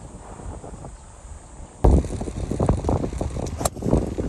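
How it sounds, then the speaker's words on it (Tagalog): Strong wind buffets the microphone on a golf course, starting as a low rumble and then gusting suddenly into loud, rough roaring that continues to the end. "Biglang lumakas yung hangin."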